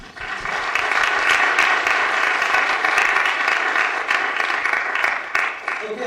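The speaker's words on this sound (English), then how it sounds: "So a big round of applause for all this." Audience applause fills the room at a community stage celebration, a dense, steady wash of many hands clapping at close range that holds strong throughout, with no voices rising above it.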